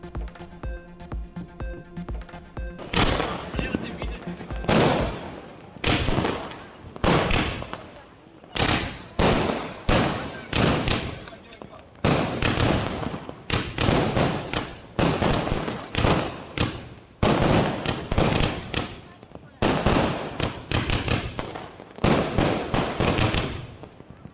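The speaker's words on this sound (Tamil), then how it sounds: "தமிழகம் முழுவதும் தீபாவளியை உற்சாகமாக கொண்டாடி மகிழ்ந்த மக்கள் இரவை வண்ணமயமாக்கி வான வேடிக்கைகள்" Diwali fireworks burst over a night sky in Tamil Nadu, a long run of loud, sharp cracking bangs and rapid crackling volleys in irregular bursts, following a brief stretch of music at the start.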